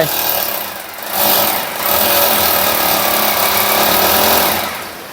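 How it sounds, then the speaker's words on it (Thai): A power drill bores into steel on a construction job in the rain, giving a harsh, loud, grinding whine that swells and eases over several seconds, close by and without talk. "เจาะเหล็กก่อนนะฮะเราจะก่อ"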